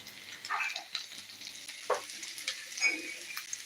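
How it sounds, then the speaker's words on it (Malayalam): A spoon stirs mackerel fish masala in a pan, making soft scraping and stirring sounds over a faint frying sizzle. A few light clinks stand out among the quiet, irregular strokes. "കൂടെ കൂടെ ഇങ്ങനെ ഇളക്കി കൊടുക്കണം കേട്ടോ"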